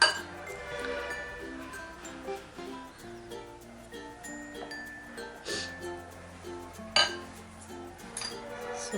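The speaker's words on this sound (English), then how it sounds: "we are going to take a little bit of cream and we are going to mix it with the cocoa powder as well as with the gel color" A utensil clinks lightly and repeatedly against a bowl as cream is mixed with cocoa powder and gel food color for chocolate whipped cream to top eggless cupcakes. Steady background music plays throughout.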